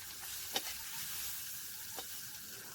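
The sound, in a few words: small shrimp frying in oil, stirred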